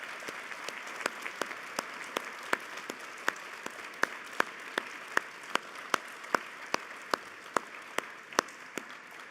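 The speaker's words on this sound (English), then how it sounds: "let's give our guest and friend Tyler Bridges one final round of applause." Applause from a small audience closing an author talk, honoring guest Tyler Bridges: sparse, distinct handclaps at a fairly steady pace, moderately quiet in a room with no talking.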